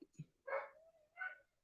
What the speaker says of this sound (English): what are them dogs barking at?